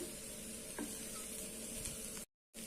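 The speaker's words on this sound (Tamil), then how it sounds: "நமக்கு மெதுவாக பரட்டி விடணும், இல்லைன்னா கிழங்கு உடஞ்சிரும்." Potatoes frying in a pan give a steady close sizzle, with soft stirring scrapes as the pieces are turned gently, then a brief cut to silence near the end.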